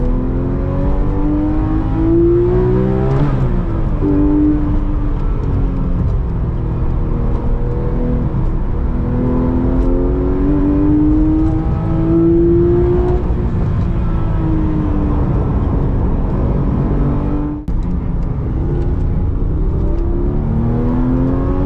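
A Porsche 997 GT3 RS 4.0 engine revs loud and continuous while driving, its pitch climbing and falling through repeated throttle swells, with a brief dip near the end and no talk.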